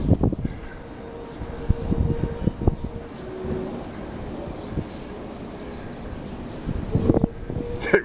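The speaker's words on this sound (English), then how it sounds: "the wind is just blowing all over the place" Strong wind buffets an outdoor microphone in uneven gusts, with rumbling thumps and swells, plus a few faint rustles and knocks in the background.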